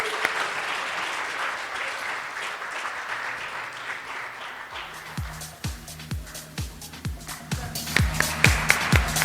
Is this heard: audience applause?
yes